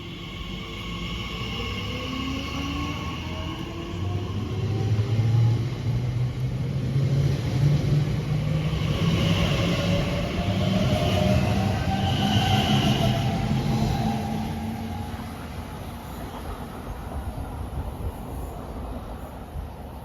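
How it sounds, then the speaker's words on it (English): An Elizabeth Line train departs Iver station, a heavy rumble building then fading as it pulls away, with rising electric motor whine and wheel noise on the rails, loud and close, no voices. "Departing it now is the 11:25 Elizabeth Line service from Abbey Wood to Maidenhead."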